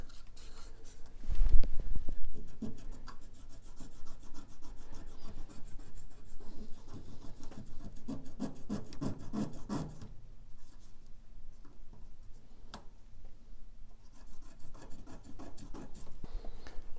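Close, dry scrubbing and rubbing on a circuit board around leaky capacitors, short back-and-forth strokes with a louder thump early on, then lighter bursts of brushing continuing throughout, with no talk.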